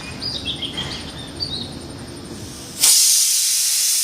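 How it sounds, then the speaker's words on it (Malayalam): A kitchen pressure cooker, sealed while cooking, with faint background chirps before a sudden loud, steady steam hiss bursts out and holds for over a second. "മൂന്ന് വിസിലായിട്ടുണ്ട് കേട്ടോ"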